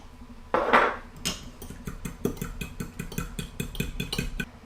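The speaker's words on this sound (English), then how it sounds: "Whisk the eggs using a fork." A fork whisking eggs into milk in a bowl, a rapid regular clicking and tapping against the dish after an initial clatter, close and moderately loud.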